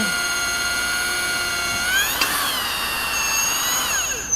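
A tool whines at high pitch, steady and close, with a brief shift in the middle, as a reamer sizes a hole dry, without cutting fluid, in a Honda B-series engine part.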